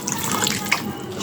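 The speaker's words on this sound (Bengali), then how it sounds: "আর একটু জল দিব" Water poured into a cooking pot of lentils on a home stove, a brief, steady splashing gush heard close and alone.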